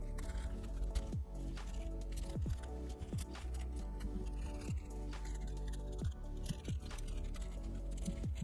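Code is typed on a computer keyboard, a close run of uneven key clicks and taps that continues without a break and with no voices.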